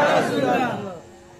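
Large crowd at a religious gathering for Eid Milad un-Nabi roars a chanted response in unison, loud and close, then the massed voices trail off into a quieter murmur.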